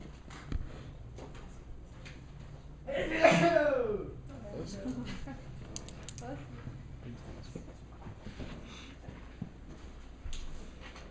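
One loud sneeze bursts out indoors in a classroom during student presentations, with quiet chatter and light laughter around it.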